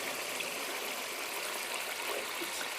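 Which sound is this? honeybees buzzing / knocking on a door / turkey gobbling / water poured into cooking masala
water poured into cooking masala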